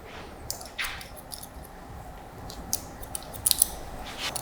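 Scissors snipping hair during a textured fringe scissor cut with short back and sides, a run of light, close, crisp blade clicks spread across the clip, thickening into a quick cluster of snips near the end.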